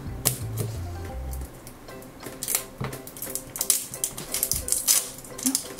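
A cardboard tear strip on a Grossery Gang blind box is pulled open in a rapid run of sharp ripping crackles and clicks, close and fairly loud, with a faint low hum underneath.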